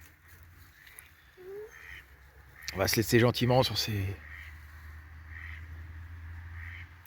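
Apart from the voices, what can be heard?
ducks quacking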